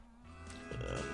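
A cow in the farming game Agricultural Simulator 2013 lets out a short, low moo, fairly faint and heard alone over a quiet background hum.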